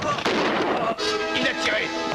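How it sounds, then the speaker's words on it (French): Sharp, loud gunshot cracks ring out, several bangs in quick succession with echoing tails. "Il a tiré!"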